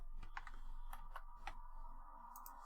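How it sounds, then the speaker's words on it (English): Fingers tapping on a computer keyboard in quick, uneven bursts of clicks, close and fairly quiet against a low steady hum, with no talking. "I'm just typing anything to hop to the end here"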